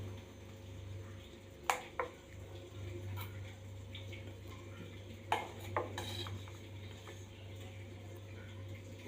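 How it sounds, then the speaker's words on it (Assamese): Steel tiffin bowls clink against a metal pot of boiling water as they are set in to steam idli batter, with two clusters of sharp metallic knocks over a steady low hum. "ইয়াতে মই টিফিন বাতিকেইটা বহাই দিছোঁ।"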